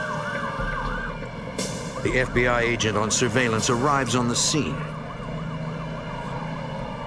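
Ambulance siren sound effect, wailing up and down loudly for a few seconds before fading, under a narrator's voice.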